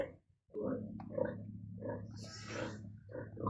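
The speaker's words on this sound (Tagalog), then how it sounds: "papasilip ko po sa inyo ang aking iba pang baboy" Pigs on a pig farm grunt and snort in a cluster of low, close noises, with a few higher squeals mixed in, continuing for several seconds without talk.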